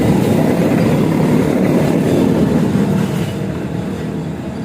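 Passenger train running on rails on the route from Pasar Senen toward Yogyakarta, a loud, steady rumble with rolling wheel noise throughout, easing slightly in level near the end, with no voices.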